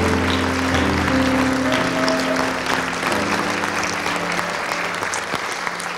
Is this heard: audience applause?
yes